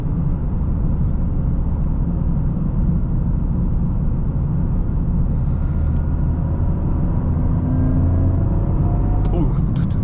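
A 2023 Toyota Corolla GR drives on an open road, heard from inside the cabin as a loud, steady low rumble of engine and road noise, with a brief scraping burst near the end.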